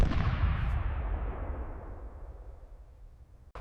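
A single loud gunshot booms, then its echo slowly dies away into quiet.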